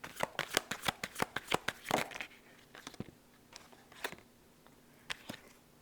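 A deck of tarot cards riffled and shuffled in a rapid burst of crisp flicks, then cards slid and drawn with a few softer, scattered snaps, close and clear with no voices.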